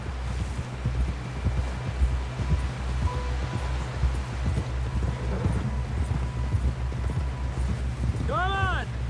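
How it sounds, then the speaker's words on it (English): Horse hooves clip-clop at a steady pace in the video game Red Dead Redemption 2, loud and continuous with a voice speaking over them and a brief whinny near the end. "Someone help John down off this horse."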